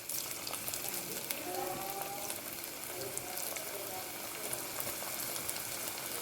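Cauliflower pieces frying in hot oil bubble and crackle steadily at low volume, with light utensil clinks, while a person talks briefly over the cooking.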